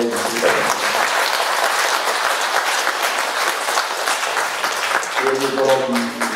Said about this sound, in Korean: 다시 뜨거운 박수를 보내주십니다.